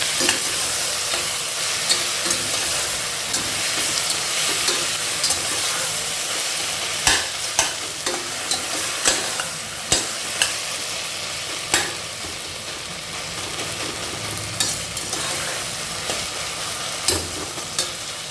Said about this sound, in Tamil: தக்காளி சேர்த்தாச்சு, அதை நல்லா வதக்கிடலாம்.